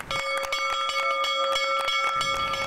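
The closing bell at the CBOE stock exchange in Chicago, a loud, rapid, continuous ringing with a bright metallic tone, heard alone for its full length.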